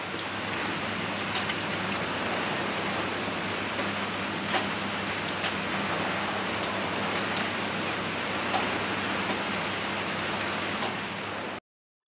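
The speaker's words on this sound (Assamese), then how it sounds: "যেতিয়া মেলিবলৈ সময় পালোঁ তেতিয়ালৈকে দেখিছেনে কেনেকুৱা বৰষুণ হৈ গ'ল" Steady, even rain pouring in Numaligarh Refinery Township, Assam, a dense continuous hiss with scattered individual drops pattering nearby, then abruptly cutting to silence at the end.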